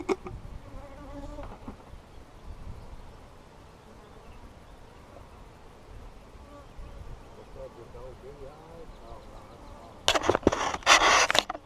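Honeybees from a new hive split buzz around in a bee yard, a steady insect hum nearby with a louder burst of close buzzing near the end.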